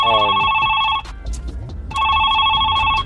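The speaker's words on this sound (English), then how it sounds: "That phone is crazy." A phone rings with two bursts of a loud, bright electronic bell-like ringtone separated by a short gap of quieter room noise.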